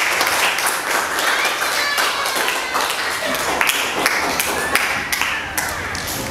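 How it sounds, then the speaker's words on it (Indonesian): Classroom students clapping for a classmate who is called to the front, a steady, close, somewhat uneven patter of hands with some thumps and taps running throughout. "Coba tepuk tangan dulu untuk kawan kita."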